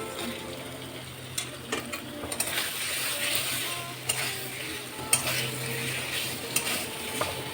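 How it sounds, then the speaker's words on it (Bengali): Masala stirred and fried in oil in a pan for a vegetarian patol (pointed gourd) dish made without onion or garlic, a steady sizzle with scraping spoon strokes and occasional clinks against the pan. "দেখুন মশলাটা আমার কষে গেছে।"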